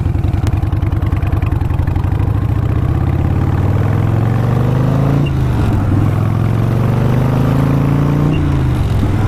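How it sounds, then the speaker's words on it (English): A loud motorcycle fitted with 18-inch ape hangers runs close by, its engine throbbing steadily with a rough, pulsing idle that swells slightly in pitch and dips a couple of times, with no talking over it. "Listen to this fucking bike,"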